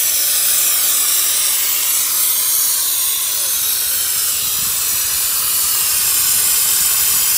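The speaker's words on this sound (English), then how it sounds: "the LPG steam car washing machinery" A loud, steady hiss of pressurized steam spraying continuously from an LPG steam car washer, harsh and bright, with faint background rumble.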